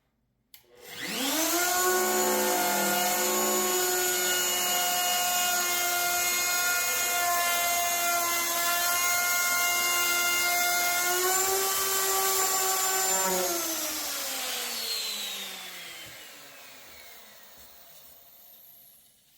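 A router trims the edge of an epoxy countertop with a loud, steady high-pitched whine that runs for about twelve seconds, then the tone drops as the motor winds down and fades out.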